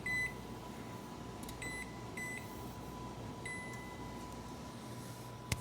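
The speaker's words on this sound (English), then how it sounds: "Set the timer." Oven timer giving several short, crisp electronic beeps at irregular intervals as it is set, over a low steady kitchen hum.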